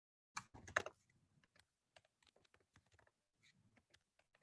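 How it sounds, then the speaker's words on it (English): Someone types text into a PowerPoint text box on a computer keyboard. A quick cluster of louder keystrokes comes first, then sparse, soft, irregular clicks follow, close by with no voices. "you have the cursor right here to start typing"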